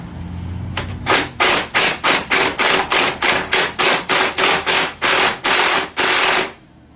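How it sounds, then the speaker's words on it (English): A ratchet rapidly clicks while tightening the rear axle nut on a Tao Tao CY50D scooter, a loud close series of about fifteen sharp, evenly paced clacks with a longer final pull, no speech. "Once I get close to having it all the way ratcheted shut"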